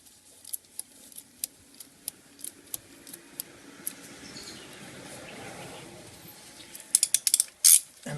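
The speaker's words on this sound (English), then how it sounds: "And then tightening it down with your 1-inch." A one-inch ratchet tightens a new K&N high-performance oil filter, giving a series of sharp, evenly spaced clicks that slow and then bunch into a quick final burst, close and fairly quiet against a low background hum.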